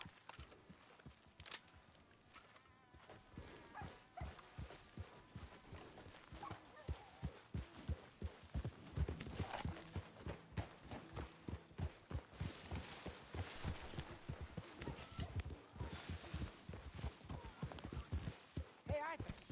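Horse hooves clip-clopping in Red Dead Redemption 2, a steady, close rhythm of hoofbeats that runs the whole time, with occasional talk and game sounds mixed in.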